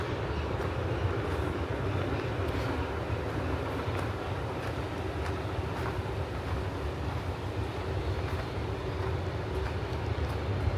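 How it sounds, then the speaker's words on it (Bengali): A train runs along a railway line beside a rural Dutch village, hidden behind trees, making a steady, broad rumble that holds at an even level throughout. "ট্রেন যাচ্ছে, এটা ট্রেনের শব্দ।"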